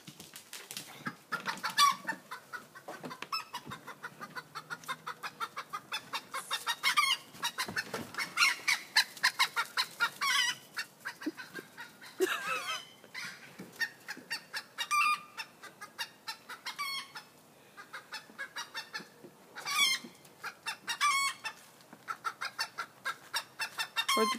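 Chickens and a rooster cluck and squawk steadily on a farm, a busy run of close, overlapping calls.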